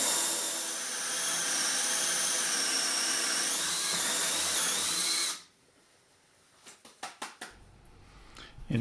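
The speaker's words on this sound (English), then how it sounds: "go ahead and just drill out my other hole for the other hinge" A power drill whirs loudly and continuously for about five seconds boring a hinge hole in a wooden kitchen cabinet door, then stops, followed by a few scattered knocks and clatters.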